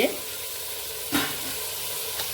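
Vegetables sauté in a hot pan for paneer pulao, a steady sizzle with two brief scraping stirs, heard up close and without talk.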